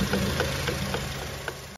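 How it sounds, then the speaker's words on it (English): A car engine runs at idle with a steady mid-pitched hum, a faint repeating tick and a rubbing noise from the belt, heard close up with no talk over it. "Customer states they hear a rubbing noise from the belt."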